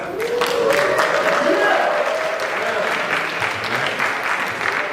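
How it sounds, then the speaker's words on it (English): A crowd claps steadily at a Trinidad and Tobago Independence gathering, warm sustained applause filling the room with a voice briefly audible beneath it. "Give him another round of applause"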